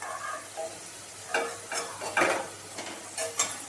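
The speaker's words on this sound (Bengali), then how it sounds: "একটু কড়া করে আলুগুলোকে ভাজতে হবে" Potatoes fry in oil in a kadai until crisp, with a low sizzle broken by several sharp scraping stirs of a spatula against the pan.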